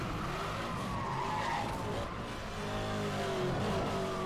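Car engine and tyres in Need for Speed Hot Pursuit Remastered, a loud, steady rush of revving and skidding with shifting engine pitch, close and continuous throughout with no talk.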